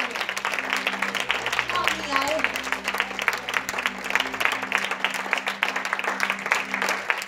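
A church congregation applauds with dense, sustained clapping that stays fairly loud throughout, while a voice talks over the applause.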